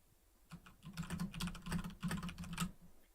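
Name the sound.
typing on a computer keyboard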